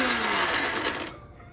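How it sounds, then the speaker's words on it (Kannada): A kitchen mixer grinder whirs loudly as it blends okra chutney, a dense steady roar that cuts off abruptly near the end and leaves a faint hum. "ಇನ್ನೊಂದು 2 ಸೆಕೆಂಡ್ ಮಿಕ್ಸಿ ಮಾಡಿದರೆ ಆಯಿತು."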